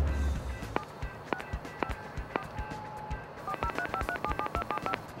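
Cell phone keypad tones while dialing the ParkPlus parking payment line: spaced single beeps, then a quicker run of several tones over a low background hum.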